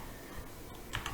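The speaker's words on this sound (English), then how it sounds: "I promise I type faster than this, I just can't see my keyboard right now." Keystrokes tap on a computer keyboard at a slow, uneven pace, close and fairly quiet, with a few sharper clicks near the end and no voices.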